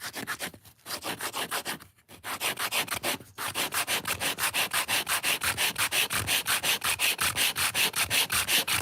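A small wooden part for a miniature chair is sanded by hand in steady back-and-forth strokes, a loud, close rasping rhythm that pauses briefly a few times, then runs on evenly.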